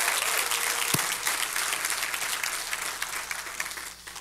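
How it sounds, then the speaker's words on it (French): A large church congregation applauds and cheers in a reverberant hall, a continuous wash of clapping that gradually fades toward the end. "une main d'acclamation, un cri de joie dans ce lieu pour le Sauveur que nous avons en Jésus?"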